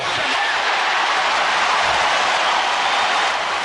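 Arena crowd at a 1993 NBA Finals game between the Bulls and Suns roars after a successful free throw, a loud, dense, sustained wall of cheering and noise that fills the whole stretch without a break.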